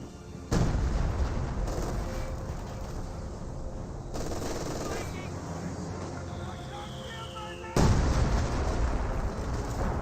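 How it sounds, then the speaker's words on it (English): Artillery shells land in heavy booming impacts during a Company of Heroes 2 battle, with distant rumbling explosions and scattered gunfire while a voice commentates over the combat. "While receiving artillery fire,"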